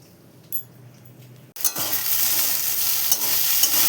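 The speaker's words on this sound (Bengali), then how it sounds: "এইদিকে কাঁচা ছোলা, আলু, বেগুন তেলে নেড়ে নিচ্ছি।" Raw chickpeas, potato and eggplant hit hot oil and are stirred, a sudden loud sizzle bursting in after quiet with faint clinks, then continuing steadily close up with stirring.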